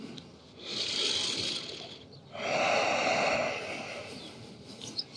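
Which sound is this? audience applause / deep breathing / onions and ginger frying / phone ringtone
deep breathing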